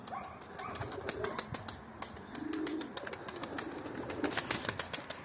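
Bozkırlı pigeons coo in low, rolling murmurs amid bursts of wing flapping, with scattered sharp chirps and rustles close by; no one speaks.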